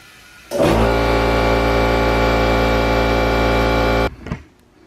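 A tire on a DIY beadlock wheel fills from an air compressor in one steady, loud, droning hum lasting several seconds, starting and stopping abruptly, with a brief hiss as it cuts off.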